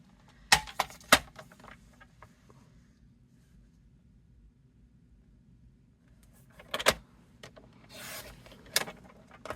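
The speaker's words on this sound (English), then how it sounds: "let me trim just a smidge off that." A paper trimmer slices paper for a Paper Pumpkin craft project, giving two separate bursts of rasping, sliding cuts close by, with near silence between them.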